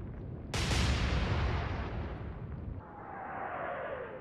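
A ship's gun fires in the naval video game Atlantic Fleet: a sudden, heavy blast is followed by a long rolling rumble that fades into a soft whoosh, with no talking.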